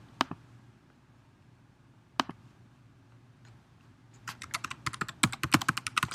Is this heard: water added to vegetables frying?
no